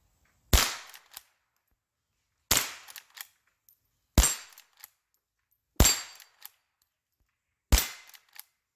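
Five evenly spaced sharp rifle shots from a Henry H001, each followed a moment later by the faint ring of the bullet striking a steel target downrange, with no talking.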